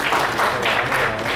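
Audience applause at a Hindi film-song concert, steady dense clapping throughout with no pauses, moderately loud and filling the whole stretch.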